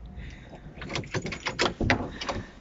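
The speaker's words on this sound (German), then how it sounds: "Wartet mal, ich muss die Tür aufmachen." A door is opened indoors, with a burst of rattling, scraping and clacking sounds from the handle, lock and sliding panel over about two seconds, close and moderately loud, without talk.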